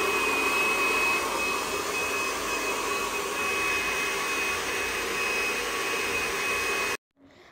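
Airbrush machine spraying during bridal makeup, a steady loud hiss with a faint whine that runs unbroken for about seven seconds before cutting off abruptly.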